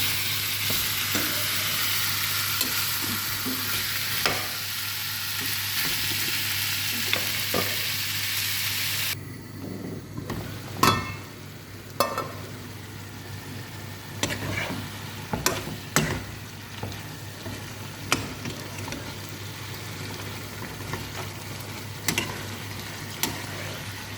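Marinated achari chicken hits mustard oil in a pan, giving a loud continuous sizzle that drops to a softer fry after several seconds, punctuated by scattered clinks and scrapes of stirring.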